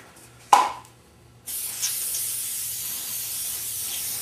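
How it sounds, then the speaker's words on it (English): A brief click and hiss, then a continuous close spray hissing steadily from an aerosol can of temporary spray adhesive, applied to patterns on wood, for several seconds. "I'm going to go ahead and use the spray adhesive to apply all the patterns to"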